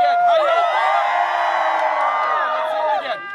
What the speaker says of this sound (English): Big cheer, one, right, two, three. Let's hear it again.